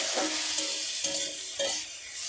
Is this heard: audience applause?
no